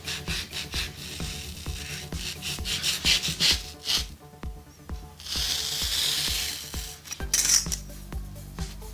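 A foam sheet used as a rockwool substitute for hydroponics is cut with a knife or cutter, giving repeated close scraping, rubbing strokes with brief ticks and a longer steady rasp, no talk.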